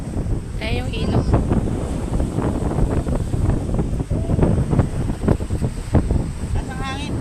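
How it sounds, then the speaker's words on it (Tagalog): Strong wind gusts buffet the microphone at a seaside spot near a river mouth, a continuous rough roar with surf in the background, while people talk and call out over it. "Lakas ang hangin."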